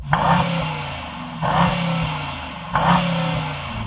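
Mercedes-AMG E63 S engine revved repeatedly against its soft limiter during a drag race session, three loud rising bursts about 1.3 seconds apart, each swelling then holding steady before dropping back, close and without talk.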